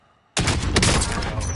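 Rapid automatic gunfire in the video game Warzone bursts in suddenly after a quiet moment, a loud, dense volley of shots that keeps going to the end.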